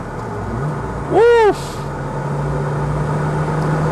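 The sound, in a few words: Renault Clio RS engine driving fast on open road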